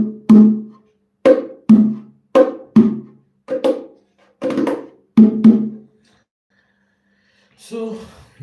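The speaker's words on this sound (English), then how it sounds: "The macho should sound somewhat like this, and the embra should sound somewhat like this." Sharp hand-struck bongo hits on the macho and hembra drums in an uneven pattern, several strokes with brief gaps, close and dry, followed by a pause and one softer, breathier sound.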